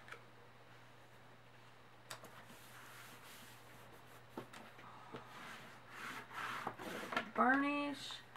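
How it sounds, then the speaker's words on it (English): Paper pieces of a Plaid Christmas interactive mini album are burnished by hand, a soft close rubbing with scattered light taps and scrapes, quiet throughout and building slightly near the end before a brief voiced sound. "Burnish"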